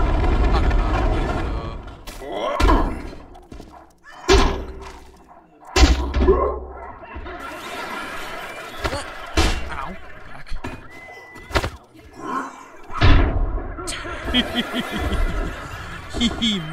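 Mace strikes in the VR combat game GORN land as several sharp, loud bonking thuds spaced irregularly, interleaved with someone talking and chuckling close by.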